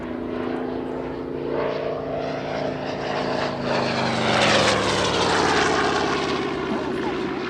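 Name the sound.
propeller aircraft passing in airshow dogfight display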